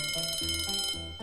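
A synthetic alarm sound effect plays close and loud, a rapid electronic ringing tone over a stepping pattern of low beeping notes, running continuously for about a second.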